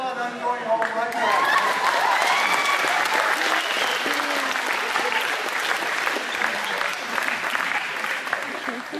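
Loud, sustained audience applause fills the room with dense clapping, while a voice talks over the start of it.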